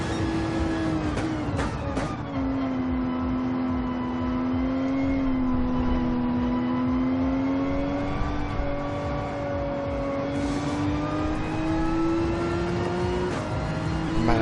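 Race car engine in a racing video game, holding a loud, continuous tone as the throttle is worked through a corner, with the pitch dipping, swelling and easing back over a long stretch.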